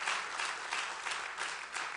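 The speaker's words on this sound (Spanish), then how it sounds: "Dale un aplauso al Rey." A church congregation claps and applauds, a dense, steady wash of many hands at moderate distance, fairly soft and continuous.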